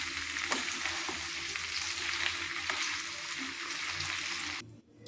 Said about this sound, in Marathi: आपण इथं आता तुपात काजू भाजून घेऊ।